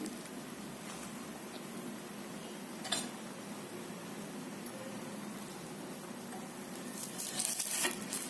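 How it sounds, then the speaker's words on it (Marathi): An ukadpoli flatbread cooks on a griddle greased with oil or ghee, giving a soft, steady sizzle at low volume, with a couple of light utensil clinks near the end. "तव्यावरती थोडंसं तेल किंवा तूप घालायचं आणि त्यावरती ही पोळी घालायची"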